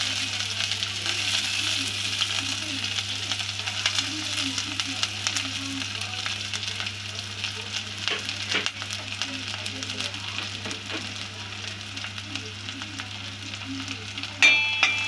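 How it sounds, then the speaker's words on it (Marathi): Chopped onions dropped into hot oil in a pan for Malvani-style misal sizzle steadily and close for the whole stretch. A brief utensil clatter comes near the end. "आता आपण त्याच्यामध्ये कांदा टाकूया"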